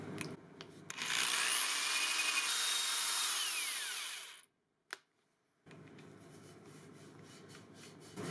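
A wooden prop axe is sanded by hand with 120 grit sandpaper: a loud, steady rasping stroke for about three seconds, then a pause and a single tap, followed by quieter, continuous rubbing.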